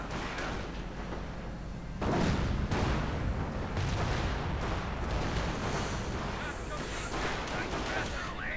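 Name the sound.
anti-tank guns firing in a World War II video game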